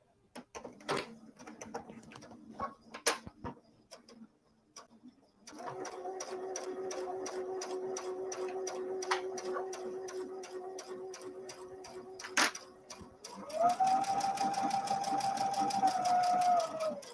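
An embroidery sewing machine stitching close by, a steady rapid mechanical chatter that starts after some handling clicks, runs evenly, then shifts to a louder, higher whirring pattern near the end.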